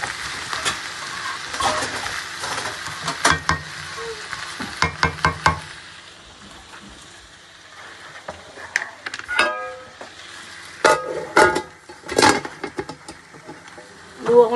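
Onions for a chicken roast fry in a pan with a hot sizzle, broken by bursts of rapid spatula scraping and clanking against the metal, close up and fairly loud, with brief quieter stretches between stirs.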